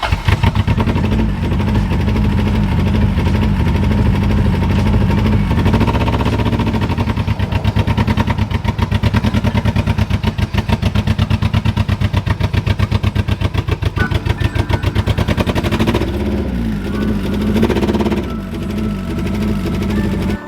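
Honda Civic with a B-series engine swap driving up a driveway, its engine running loud and steady with a rapid, buzzing, rattly pulse throughout, close up and uninterrupted.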